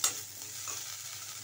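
Five herbs and curry leaves roasting in a pan for a thuthuvalai herbal rasam, with a brief scrape of stirring up front, then a steady soft sizzle and low hum throughout, close and fairly quiet with no talking.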